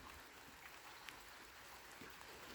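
Light autumn rain falls by a pond outdoors, a faint, steady hiss of drops with a few soft ticks and no voices.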